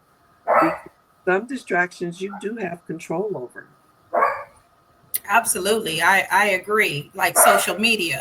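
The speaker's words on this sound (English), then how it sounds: "My dog never barks, and obviously he wants to bark now." A pet dog barks indoors in a few short, sharp bursts, one near the start and another midway, set between and under a steady conversation between two people.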